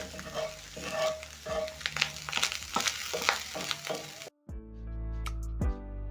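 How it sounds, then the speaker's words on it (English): Minced beef with a crushed beef seasoning cube sizzles loudly in a pan while a spoon stirs and scrapes through it, a busy crackling frying sound that suddenly gives way to a steadier, quieter hiss near the end. "Mix everything together."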